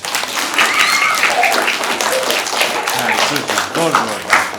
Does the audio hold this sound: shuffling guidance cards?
no